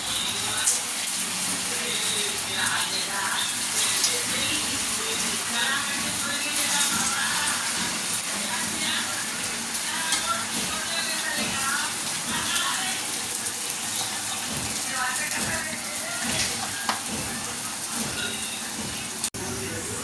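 Sabudana vadas frying in hot oil in a pan; a steady, loud bubbling hiss runs continuously for the whole stretch, with someone talking over it.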